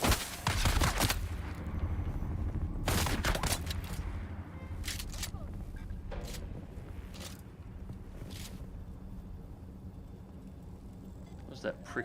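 Gunfire in the sandbox survival game Dune: Awakening, set in an open desert: a burst of shots at the start, then scattered single cracks at intervals, moderately loud over a steady low rumble with someone talking throughout.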